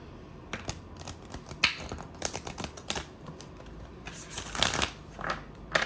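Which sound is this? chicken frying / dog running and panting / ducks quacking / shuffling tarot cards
shuffling tarot cards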